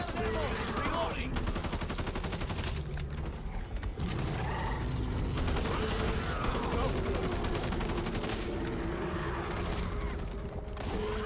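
Rapid gunfire from the zombie shooter game Back 4 Blood crackles in dense bursts almost nonstop over a low rumble, mixed in with the game's other noises.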